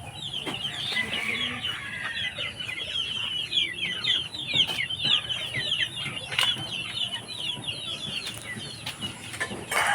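Chicks kept under a cover at a pig farm peep steadily, a dense chorus of high chirps that goes on throughout, fairly close, with clucking mixed in.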